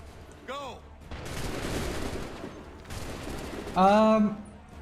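A musket volley in Assassin's Creed III comes as a broad noisy burst of massed fire lasting about a second and a half, followed by a second similar burst, with shouted voices before and after.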